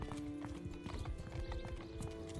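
Horse hooves clip-clop steadily at a brisk walking pace in Mount & Blade 2: Bannerlord, with a soft whinny and a constant game soundtrack tone sitting underneath.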